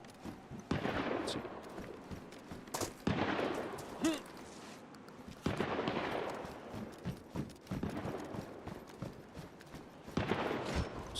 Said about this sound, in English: Someone died, but the shooting continues, so... guessing it's not this battle.